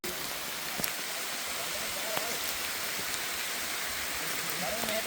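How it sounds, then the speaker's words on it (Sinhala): Heavy rain falling outdoors in an elephant habitat, a dense continuous wash of drops with a few scattered sharper taps, steady and fairly loud throughout. "වැස්ස නම් අඩු වෙන්නේ නැහැ."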